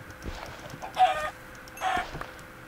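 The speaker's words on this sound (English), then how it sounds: "I'm gonna go get these chickens for food." Two short bursts of chicken clucking in a video game stand out over a quiet background, with faint soft steps in between.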